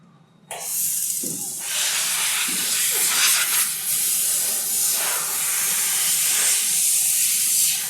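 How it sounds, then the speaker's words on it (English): A Fogbuster coolant mist sprayer on a CNC router switches on abruptly and then hisses loudly and steadily, a dense airy spray that carries on without a break, with a few faint knocks underneath. "how the Fogbuster sprays"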